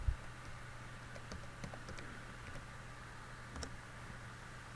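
A password is tapped out on a computer keyboard: a few sparse, quiet key clicks scattered over a low steady room hum.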